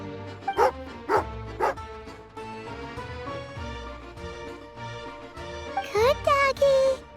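Tagarin, a dog in the game Genshin Impact, gives several short barks and yips over game music, with a few louder bursts near the start and end.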